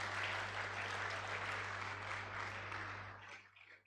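Audience applause at a university induction ceremony for medical laboratory science graduates, honouring a professor; steady, moderately distant clapping over a low hum, fading out toward the end.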